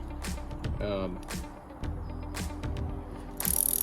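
A large 3/4 inch wrench ratchets while 6AN fuel line fittings are tightened, making close, loud bursts of rapid clicking broken by metallic clanks.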